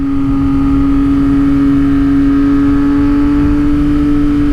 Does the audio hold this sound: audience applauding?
no